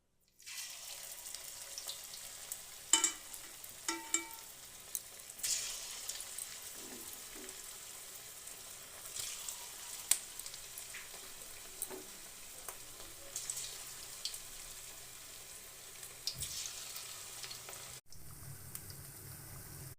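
Cauliflower pakoras deep frying in hot oil, a steady close crackling sizzle running throughout with a few clinks and scrapes, ending in a brief louder burst.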